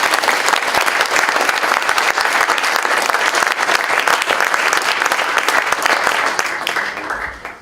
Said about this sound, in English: I'd like to have a round of applause for our